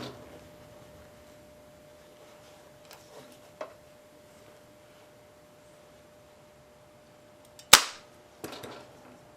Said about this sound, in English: I'm gonna finish stapling this on